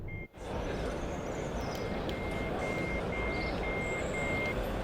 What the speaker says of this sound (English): Alright, emergency brake application